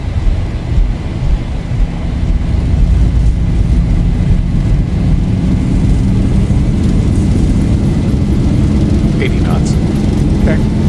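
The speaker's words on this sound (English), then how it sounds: "We've been given takeoff clearance off runway 33 with a northeast departure." Airliner engines at takeoff power on runway 33 at Castlegar, heard as a loud, steady, broad roar from inside the aircraft, with faint tonal whines on top.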